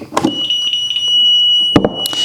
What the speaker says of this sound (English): you're going to hear an alarm sound because the battery either died or a battery's been removed